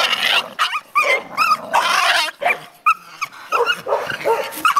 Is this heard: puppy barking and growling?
yes